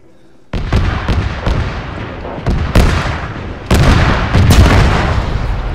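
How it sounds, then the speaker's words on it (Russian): Loud explosions in the ArmA 3 video game as a mined hangar blows up, several heavy booms and blasts in quick succession over a steady rumble, with no talking. "Вернись, там сейчас взрыв. Второй ангар заминирован,"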